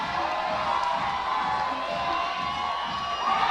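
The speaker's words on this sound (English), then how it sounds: "the crowd is exploding here for the hometown girl, Katie Lamb" A hometown crowd roaring at a national climbing championship final, loud and sustained cheering with whoops and high shouts rising and swelling throughout.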